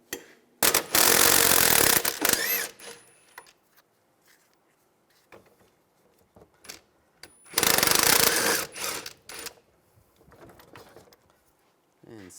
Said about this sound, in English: Using a 17mm socket, take these two caliper bracket bolts off.